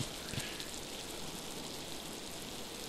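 Steady rain in the video game Miasmata, a soft, even, continuous hiss of falling water throughout, with no talk over it.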